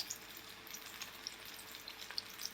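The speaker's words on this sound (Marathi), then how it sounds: "गॅसच्या मध्यम आचेवर आपल्याला हे तळायचे आहेत." Sweet corn pakoras deep-frying in oil over a medium gas flame, a soft continuous sizzle with small crackles and popping bubbles scattered throughout, heard close but fairly quietly with no talking.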